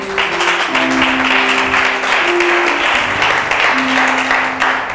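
A church congregation applauds, dense and steady clapping filling the room at high volume, with voices chanting and singing faintly underneath throughout.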